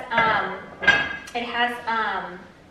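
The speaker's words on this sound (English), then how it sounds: "So I'm gonna put my lid on and I'm going to turn on my oven, or my stove" Metal lid set onto a cooking pot of beef stroganoff on the stove, giving a few short clinks and a ringing rattle as it settles, close and fairly quiet.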